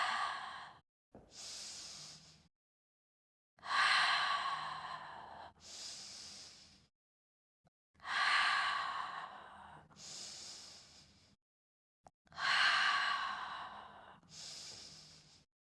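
Forceful exhaled breaths during the Pilates hundreds exercise on a mat, in loud, airy bursts of about a second each, separated by short silences and sometimes paired, repeating rhythmically close to the mic.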